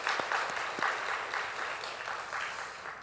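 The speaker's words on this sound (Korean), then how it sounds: "박수하겠습니다" Congregation applauding together during a Sunday church service, a steady wash of clapping that carries on evenly for the full stretch at moderate loudness with no talk over it.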